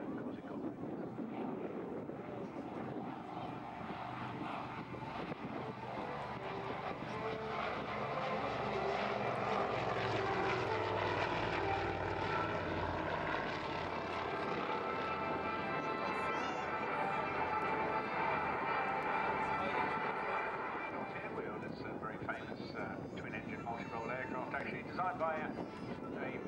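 A twin-engined Avro Anson drones overhead at an air display, its propeller engines swelling as it passes and then fading, with an announcer speaking over the sound.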